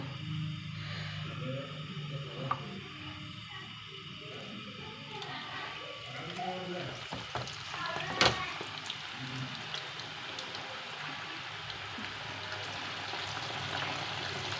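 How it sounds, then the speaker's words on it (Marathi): Jackfruit chips fry in oil over low gas, a soft continuous sizzle and bubbling hiss heard at moderate loudness, with a few faint clinks along the way. "आता आपण दुसरा घाणा तळून घेऊया"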